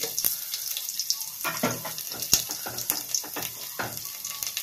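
Fenugreek seeds, cumin and a dried red chilli crackle and sizzle in hot oil for a Tamil tamarind curry with elephant foot yam, a steady close hiss broken by sharp pops and spatters, with no talking.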